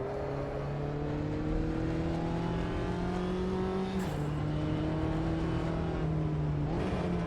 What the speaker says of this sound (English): So let's get this car warmed up.